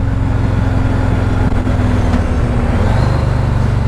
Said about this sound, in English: Oh, yeah, the engine braking's great.